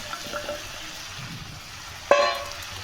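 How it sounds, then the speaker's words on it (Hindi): Spice masala with kalonji and a splash of water sizzling as it fries in a pan, a steady soft crackle with a sharper hiss burst near the end. "मसाला हमारा भुनने लगा"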